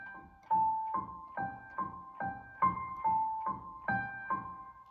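Soft piano notes alternating back and forth in a steady, gentle rocking pattern, about two per second, quiet and unaccompanied.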